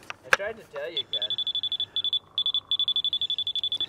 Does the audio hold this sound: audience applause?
no